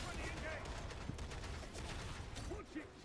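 Rapid gunfire from a Reaper heavy gun in the Warhammer 40,000 Darktide video game, with a dense, steady barrage of shots and game noise throughout, and a voice briefly talking near the end.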